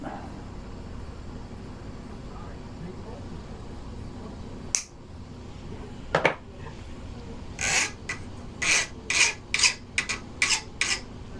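A part is trimmed by hand in a garage, heard as a few sharp isolated snips followed by a quick run of crisp, rhythmic rasping strokes, close and fairly loud over a quiet background.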